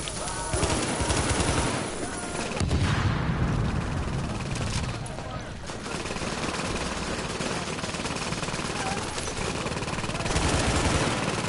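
An automated turret in the video game Catalepsy firing sustained, rapid bursts of gunfire throughout, dense and loud with brief dips, while a person talks intermittently underneath.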